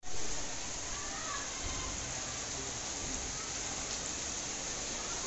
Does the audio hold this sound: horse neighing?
no